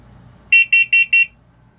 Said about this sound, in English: That one's sounding off for carbon monoxide.